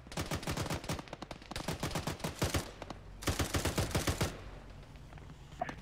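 An automatic weapon mounted on a vehicle fires rapid bursts in a military shooter game, two long rattling volleys separated by a short pause, close and sharp, with no talk.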